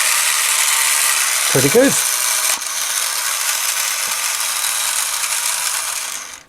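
Battery motor of a vintage MOTU Spydor toy running after repair, with a continuous loud high whirring grind and a brief rattle. Someone speaks briefly over it.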